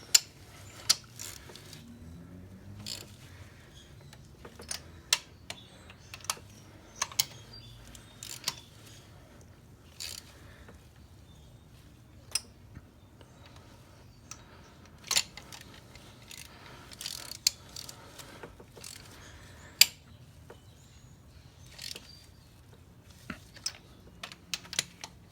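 Torque wrench tightening bolts on a Ford Focus engine, a series of sharp, irregular ratcheting clicks and metallic taps spread across the whole stretch, close by over quiet background hum.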